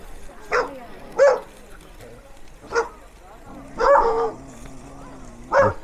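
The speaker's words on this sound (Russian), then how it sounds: "Собаки защищают территорию" Dogs guarding their territory bark in short bursts in a forest near Jerusalem, several separate barks spaced a second or so apart, fairly close, with faint background noise between them.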